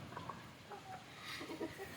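Native country chickens cluck softly around their coop in the morning, with a few scattered, quiet clucks and short calls heard faintly at a distance.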